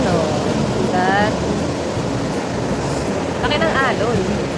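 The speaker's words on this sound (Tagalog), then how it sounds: "Laki ng alon, no? Sigat." Big ocean waves rolling in on the coast of Bali, a loud continuous roar of surf with wind buffeting the microphone, and a couple of brief voices rising over the noise.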